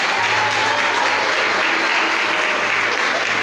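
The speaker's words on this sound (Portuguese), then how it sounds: "adore a Ele com as suas palmas" A church congregation claps in worship during a revival service, producing a dense, steady wall of loud applause that holds without a break throughout.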